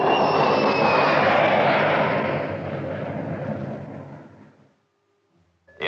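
A high-performance aircraft engine roars loudly as the plane flies past, a broad sustained rush with a thin whine on top that slowly fades into silence before a brief new burst at the very end.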